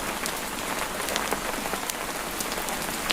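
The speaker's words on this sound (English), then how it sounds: "The rain will stop eventually" Steady rain falls outside a thick-walled Scottish stone cottage, a dense, even patter with scattered sharper drops throughout and no voices.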